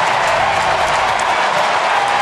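Big stadium crowd roaring and applauding for a Giants pitcher's home run on the last day of the season, a dense, steady wash of cheering that holds loud and unbroken throughout.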